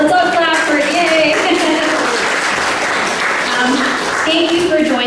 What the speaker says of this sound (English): Let's all clap for it, yay!